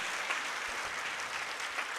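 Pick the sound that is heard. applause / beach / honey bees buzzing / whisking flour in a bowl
applause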